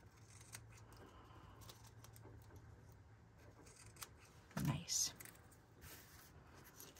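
A short double snip of scissors cutting through paper, crisp and close, standing out once against a quiet background hum.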